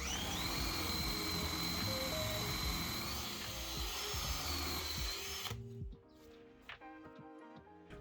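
A power drill bores through holes in reclaimed hardwood workbench stretchers, whining loud and steady for about five seconds before cutting off, leaving quieter workshop handling noise.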